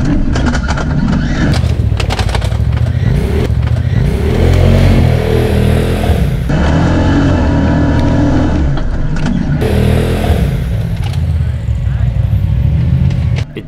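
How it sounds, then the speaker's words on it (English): A Polaris RZR turbo side-by-side rumbles loud and close along an off-road trail, its engine surging and easing unevenly, with rattles and knocks from the rough ground throughout. "So now it's my turn to take the turbo through."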